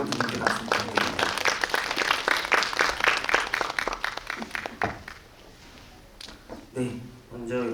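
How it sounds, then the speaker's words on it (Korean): Audience claps for two guests at a Korean cinema guest-visit screening: steady, dense applause for about five seconds, then it dies down and voices murmur and talk over the quiet hall. "다시 한번 두 분께 박수 부탁드립니다"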